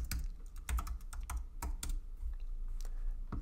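Fingers type a password on a Mac computer keyboard, a quick irregular run of light, close key clicks with short pauses.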